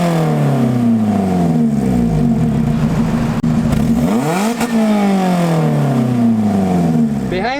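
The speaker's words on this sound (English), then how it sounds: "That is one hell of a Toyota engine" Stock Toyota engine in a Lotus Elise Sprint, a street-legal track car, revving loud and close, its pitch sweeping up and down through several rises and falls, with a sharp dip and climb near the middle.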